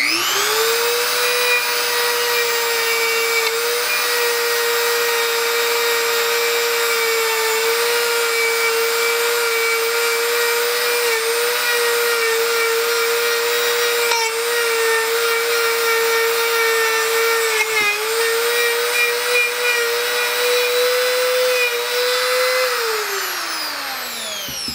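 A Depstech DM 200A rotary tool spins a small wire brush against an old bolt head, giving a steady high-pitched whine that runs loud and close for over twenty seconds before winding down.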